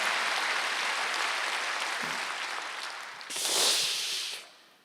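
Church congregation applauding at a Wednesday worship service, a steady broadband wash of clapping that swells briefly near the end before fading out.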